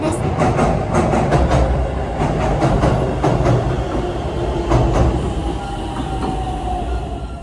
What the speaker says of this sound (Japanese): 今度は下り列車が轟音とともに橋を渡ってきました。